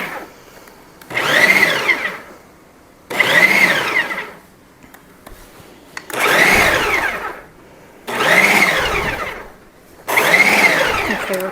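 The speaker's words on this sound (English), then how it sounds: "I like making pie crust in the food processor." A food processor chops butter for pie crust in five separate pulses of about a second each, loud and close with brief quiet gaps between bursts.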